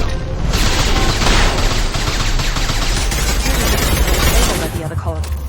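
Heavy gunfire from a Mass Effect 2 firefight on PC, a loud, dense and unbroken volley of shots that lasts the whole stretch and eases slightly at the very end.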